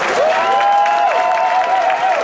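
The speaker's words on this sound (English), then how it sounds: "Let's give them a round of applause." An audience gives a round of applause, a loud, continuous patter of clapping with a sustained tonal sound running through it.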